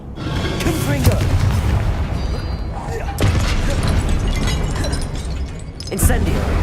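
A Confringo fire-blast spell exploding in the game Hogwarts Legacy, a loud booming rumble with sharp cracks near the middle and end, heavy continuous game noise underneath.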